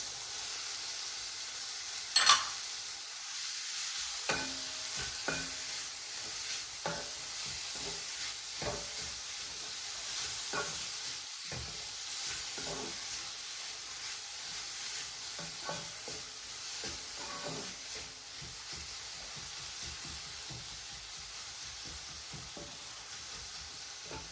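Shredded carrots and mixed vegetables for veg kothu paratha stir-fry in a pan, a low continuous sizzle punctuated by repeated spatula scrapes and taps throughout, with one sharper knock early on.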